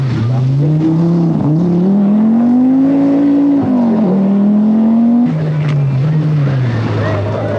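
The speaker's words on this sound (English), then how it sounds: "Lassie Lampy in a private quattro does some 4-wheel drive ploughing at Bramham" Private Audi Quattro rally car on a stage of the 1982 RAC Rally, its engine rising and falling loudly through gear changes as it ploughs along, with a commentator talking over it.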